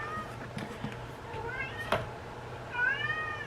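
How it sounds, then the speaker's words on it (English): A pet cat meows for attention several times, with short rising and falling calls close by and a longer drawn-out meow near the end, over faint room noise. "My cat wants attention."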